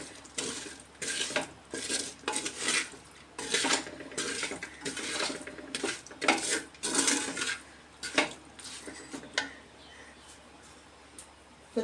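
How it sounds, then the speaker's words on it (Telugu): Fried stingray fish pieces being mixed into biryani in a pot, with repeated scraping and clanking of a spoon against the metal pot in a steady, close rhythm, no voices. "ఇవి వేసుకుని బాగా కలుపుకోవాలి."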